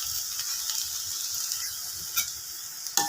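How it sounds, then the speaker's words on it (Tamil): Spinach leaves wilting in a hot pan with salt, sambar powder and turmeric, frying in a steady loud sizzle while being stirred, with a couple of sharp spoon scrapes near the end. "இப்போ நல்லா கீரை சுருங்கிருச்சு, நல்லா வதங்கட்டும்."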